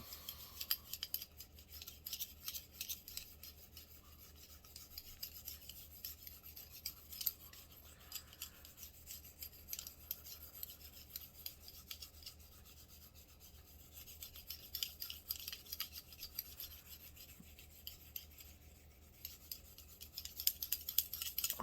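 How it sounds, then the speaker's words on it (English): Bristle brush scrubbing the inside of a 1911 pistol during cleaning, a continuous gritty rasping with uneven back-and-forth strokes, close and steady. "we want to make sure we go in from the back and give it a good scrub down"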